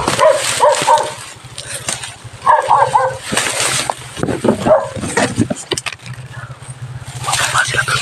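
A dog barks outdoors in a few short bursts while people talk nearby, over a steady low engine throb.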